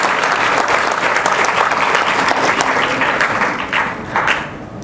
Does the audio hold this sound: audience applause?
yes